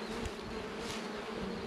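Honeybees crowding a strong hive's entrance while sugar syrup is being fed, heard as a steady continuous buzz, close and even, with no voices.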